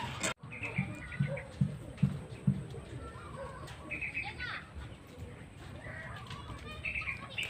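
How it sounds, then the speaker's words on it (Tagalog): A racing pigeon lands at a coop, with a sudden burst of wing flapping near the start, then soft cooing and chirps from birds close by. Children play faintly in the background. "ganyan yung landing ni Miss Mina"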